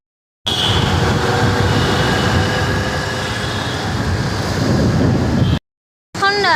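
A tram rumbles past at a tram depot: a loud, steady roar with rattling wheels that lasts about five seconds, then cuts off abruptly before another brief noise starts.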